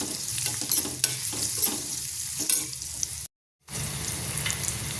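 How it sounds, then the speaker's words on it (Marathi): Finely chopped onion sizzles in hot oil with crackling mustard seeds and asafoetida, a steady close frying hiss broken by stirring scrapes, with a brief dropout near the end. "एक छोटा आपण कांदा बारीक चिरून घेतलेला आहे, तो थोडा आपण परतून घ्यायचा आहे।"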